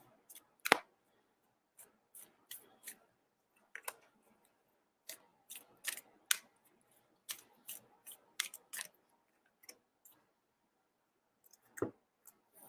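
Oracle cards being handled and picked during a reading, a sparse string of soft, close clicks and light taps scattered irregularly across a quiet background.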